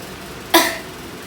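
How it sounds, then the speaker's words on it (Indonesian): One short, sharp cough from a woman patient doing an effective coughing exercise, close and alone against a quiet background. "apabila ingin batuk, batukan ya Bu"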